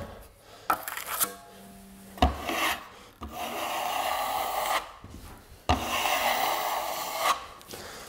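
A drywall trowel drags joint compound down a seam during a fill coat, giving repeated rasping, scraping strokes of a few seconds each with short pauses between, close and fairly loud with no talking.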